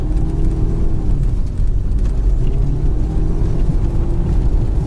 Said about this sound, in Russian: Ну-ка, давайте газ, жмем, газ